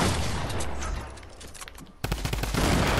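Rapid bursts of gunfire in a shooter video game, loud and close, with dense crackling volleys that thin out briefly before a heavier burst of shots resumes near the end.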